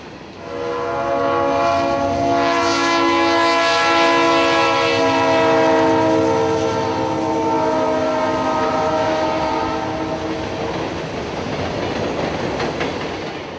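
An empty northbound freight train returning from a Georgia power plant passes close by in Austell, its horn sounding loud and sustained before giving way to rolling wagon noise and rhythmic wheel clatter.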